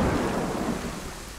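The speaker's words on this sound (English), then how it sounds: "This rain is serious though." Heavy rain and rumbling thunder in a survival video game set along a coastline, a dense continuous roar that stays loud and fades slightly over a brief moment.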